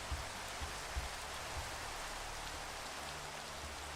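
Steady rain falling in Minecraft, a dense even hiss of drops on surfaces continuing alone without pause.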